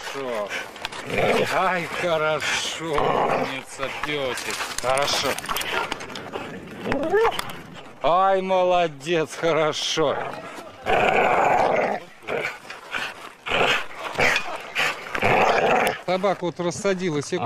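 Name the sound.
pit bull dog growling during training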